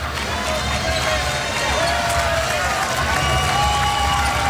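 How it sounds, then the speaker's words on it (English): Basketball arena crowd at a women's college game, Florida State versus Louisville, standing and applauding during a timeout as a hometown player comes to the bench; steady, dense crowd noise with applause and cheering throughout, sneaker squeaks rising above it. "And the crowd standing and applauding as Tallahassee native Jasmine Jones comes to the bench"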